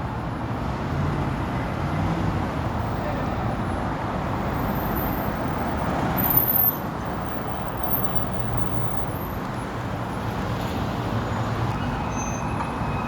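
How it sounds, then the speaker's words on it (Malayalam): Vehicles passing through an underground car park make a low, steady rumble of engines and tyres that swells slightly midway, with no voices heard. "ഇതിൽ അണ്ടർഗ്രൗണ്ടിലെ കാർ പാർക്കിങ് ഇതാ പോണ വണ്ടികൾ"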